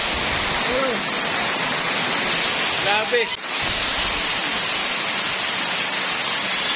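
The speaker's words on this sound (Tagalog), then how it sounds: "ang lakas ng ulan dito" Heavy rain pours in a dense, unbroken hiss in a rural village, loud and steady, with voices briefly talking over the downpour.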